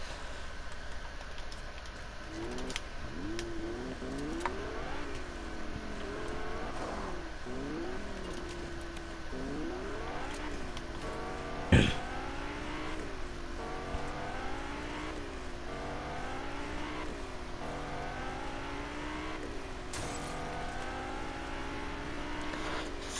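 A car engine in the Fortnite video game revs and shifts through gears in repeated rising sweeps while driving, steady and close, with a sharp impact near the middle and no talking.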